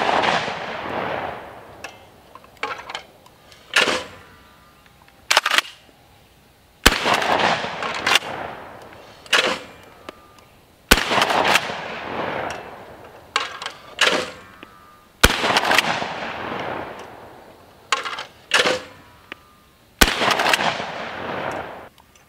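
Kel-Tec KSG 25 pump-action shotgun firing outdoors: about nine loud, sharp blasts spaced a second or two apart, each followed by a brief echoing tail and the clack of the pump action, with no talking.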